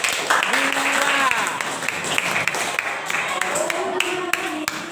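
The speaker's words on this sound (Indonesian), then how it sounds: "Berarti tepuk tangan untuk kelompok 2." Students clap in a classroom for a group that has just presented; a burst of many hands clapping, loudest at first then easing, with voices talking and calling out over it.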